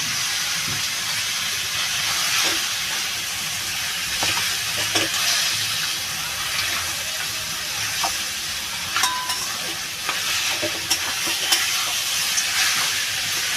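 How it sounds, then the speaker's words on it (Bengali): A fish head fries in a pan, giving a steady, close sizzling hiss with scattered sharp crackles and pops throughout, with no talking. "আমি এবার মাছের মাথাটা দিয়ে দেবো"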